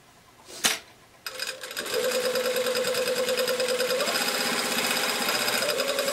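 A sewing machine stitches a welt pocket, starting after a brief click and then running in a fast, even mechanical chatter at close range, alone without talk.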